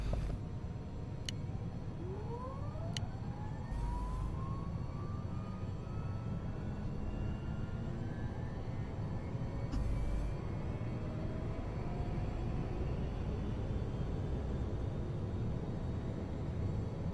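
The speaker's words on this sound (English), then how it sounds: "Okay, so the engines are running." Twin jet engines of a Challenger 300 spooling up in X-Plane, a rising whine that climbs and then settles over a steady low rumble, with a few faint clicks, no voices.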